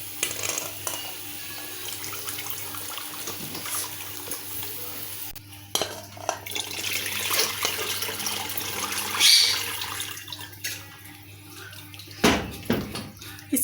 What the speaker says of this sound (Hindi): अभी इसमें जो बेसन में हमने पानी डाला था वो ऐड करेंगे।